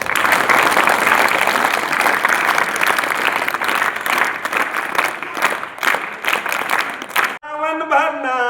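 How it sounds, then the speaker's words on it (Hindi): A crowd at a residential school event claps loudly and steadily for about seven seconds, then the applause stops abruptly and music with singing begins. "तो सर के लिए एक बार जोरदार और तालियां।"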